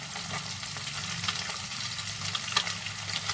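Fish pieces fry in hot oil, turning golden, with a steady, close sizzling hiss and a few brief crackles throughout.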